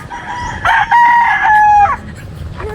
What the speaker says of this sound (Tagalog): matapang pala yung manok na yun eh